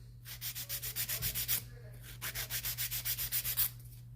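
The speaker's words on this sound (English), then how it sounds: "They do all their filing with the hand file." A hand file rasps across acrylic nails in quick, even back-and-forth strokes, two runs of about a dozen rhythmic scrapes with a short pause between, close and fairly soft with no talk.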